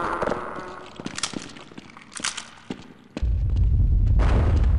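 Explosion in the Half-Life mod They Hunger, a loud low rumbling blast that sets in abruptly and holds steady after scattered thuds and game noises, with no talk over it.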